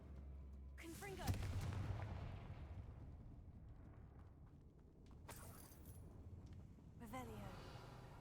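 A Confringo blasting spell goes off in the video game Hogwarts Legacy: a sharp magical burst with a rumbling explosive tail, followed by a lingering roar and a second similar blast, over continuous game ambience.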